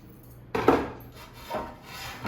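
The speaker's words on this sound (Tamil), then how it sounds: "இந்த மாதிரி கிளறி விட்டுட்டு" Sweet pongal of rice and lentils in a pot is stirred in a few short, rubbing scrapes of a spoon, close and fairly quiet.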